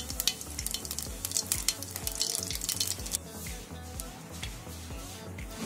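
Cumin seeds fry in hot oil in a pan, a steady crackling sizzle with bursts of sharp pops and stirring clatter, loud and close, with no talk.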